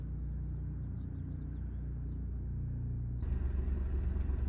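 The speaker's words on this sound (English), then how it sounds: "wide open throttle on startup, and yeah, just bounce off the rev limiter" Engine of a sim-racing car in Assetto Corsa held at wide open throttle on startup, a steady low droning rumble bouncing off the rev limiter, turning louder and brighter near the end, no voices.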